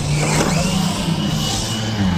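The motor of a Hobao Hyper SC 2.0 RC short-course truck on a 3s/4s battery revs loud and sustained through a jump, a continuous high-pitched electric whine with a buzzing drone beneath it.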